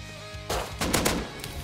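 Automated turret in the survival game Rust firing, a sharp burst of rapid loud gunshots that starts abruptly midway and rattles on in several quick volleys.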